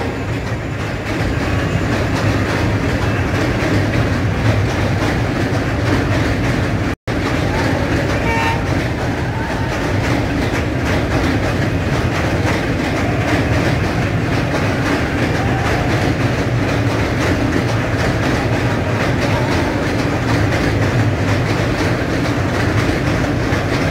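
Pune-Himachal Express passenger train crossing the Ramganga rail bridge, a loud, steady roar of wheels and rumbling carriages with rhythmic clatter throughout, close by, with a brief break midway.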